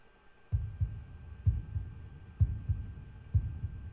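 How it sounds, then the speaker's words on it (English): A heartbeat sound effect from a video game thumps in a steady, slow double-beat rhythm, about one pulse per second, low and close over a faint hum. "maybe a heartbeat sound."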